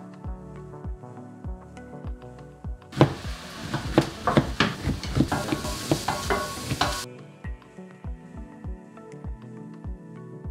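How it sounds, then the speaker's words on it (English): Asparagus frying in a hot pan, a dense crackling sizzle that swells for several seconds in the middle, with quieter clinks and taps of cooking before and after. "We are going to cook the asparagus on the pan for a few minutes"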